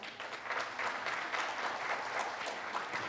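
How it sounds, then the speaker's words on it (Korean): A seated audience at the opening ceremony of Seoul Forum 2025 gives moderately loud, sustained applause with individual claps just audible in the steady wash. "모든 분들께 감사의 박수 부탁드립니다"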